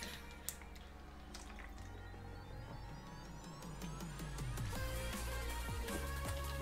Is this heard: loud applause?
no